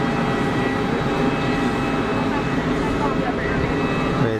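An Emirates Boeing 777 taxies at Geneva Airport toward the runway 04 holding point, a steady broad jet-engine rumble and whine that holds constant throughout, with a voice talking over it.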